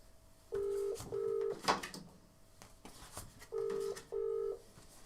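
A video call rings out as two paired electronic tones, repeated twice with a pause between them, fairly close and clear over faint background noise.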